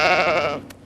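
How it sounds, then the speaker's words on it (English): A single sheep gives one short, wavering bleat, loud and close, in a city park in Curitiba, Brazil. "City sheep and city shepherds keep the parks well clipped."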